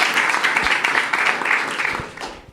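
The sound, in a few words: audience applause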